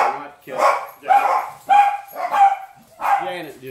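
A puppy barks and yips repeatedly in quick bursts, close and fairly loud, with a whiny edge between barks.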